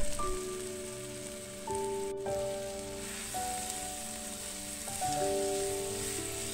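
Meat frying in a pan with celery, herbs and fresh coriander for Moroccan harira, giving a steady soft sizzle like light rain, with faint sustained tonal hums over it and no talking.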